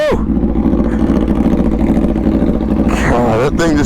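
A motorcycle engine rumbles close and loud at a steady pitch, then revs up sharply in a couple of quick bursts near the end.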